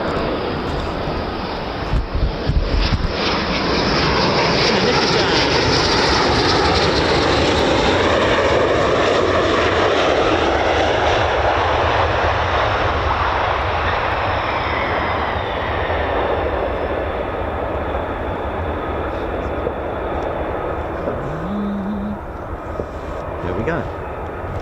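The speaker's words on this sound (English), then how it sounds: "Oh, hello, something behind me. It's an F-15." An F-15 fighter jet flying past near RAF Lakenheath, a loud broad roaring rush that swells and fades slowly over many seconds, with a voice talking beneath it.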